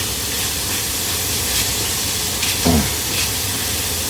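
Tomato paste is stirred into ground meat sizzling in a pan for Bolognese, giving a loud, steady frying hiss with a few faint spoon scrapes.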